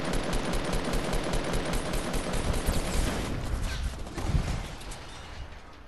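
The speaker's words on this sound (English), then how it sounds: "I'm getting shot from the window" Gunfire from a window in Fortnite Battle Royale squads: rapid, loud bursts of shots rattle almost continuously for several seconds, then thin out into a few scattered reports near the end.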